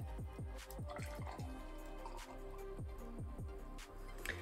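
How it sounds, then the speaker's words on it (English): Mystery flavour Fanta is poured from a bottle into a glass, making a close, steady run of gurgling glugs and splashy drips. "So let's pour some in and find out."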